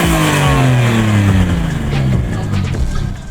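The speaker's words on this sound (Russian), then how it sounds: "Моторчик очень четко работает." A modified Zhiguli (VAZ Lada) car engine with an R154 manual gearbox runs and revs steadily, a loud, continuous close-up engine note with rising and falling harmonics and no voices.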